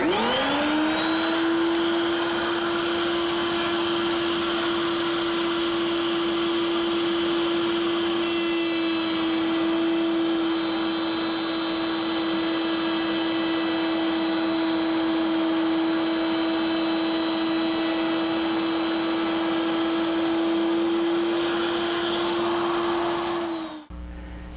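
A router cutting a stopped rabbet in wooden cloud-lift pieces for a Greene and Greene style picture frame runs as one steady, loud motor whine, held for about 23 seconds before shutting off at the end.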